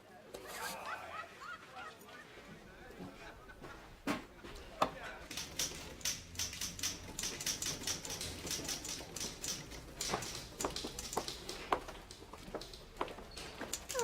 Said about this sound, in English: I've been typing up some of the work that Nora left unfinished on Naked Love.